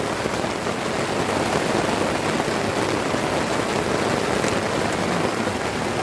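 Steady rain falls on an autumn morning, a dense, even hiss of drops close by, with no voices.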